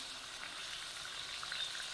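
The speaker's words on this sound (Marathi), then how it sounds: "अशा या मिरच्या तेलात टाकून चांगल्या तळून घ्यायच्या" Green chillies fry in hot oil in a kadhai, a soft, even hiss of bubbling oil that continues quietly and steadily with no voices.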